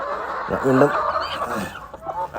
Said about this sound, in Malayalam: ഇതൊരു 60 കോഴിയുണ്ട്. VB38.